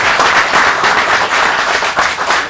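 An audience at a live leadership talk breaks into dense, continuous clapping, loud and close throughout, with scattered sharper claps standing out from the wash.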